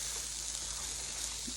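Garden-grown jalapenos sauteing in a pan for a beer-based BBQ sauce give a steady, close hiss of sizzling oil that runs without a break and with no talk over it.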